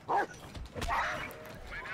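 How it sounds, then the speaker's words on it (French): Dog barks from the video game Watch Dogs 2, a couple of short yelping barks near the start and again around the one-second mark, fairly close and clear, with faint game ambience between them. "Putain de chien J'aime les chiens"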